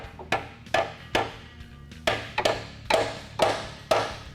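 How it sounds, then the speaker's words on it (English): Metallic hammer strikes ring out in an irregular series of about ten sharp blows, close by, driving a socket onto a corroded Jeep Wrangler exhaust nut, with short pauses between some hits. "So we're going to hammer this 12 on, and hopefully it can grip onto the nut"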